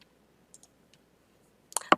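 A mouse click on a Save button in an immigration-tracker web app, with a few faint ticks first and then a short, louder burst of clicks at the end, near and crisp against quiet.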